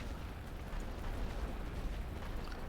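A dense, rumbling artillery barrage in The Great War: Western Front strategy game: continuous low booming and overlapping blasts, loud and heavy with no pauses.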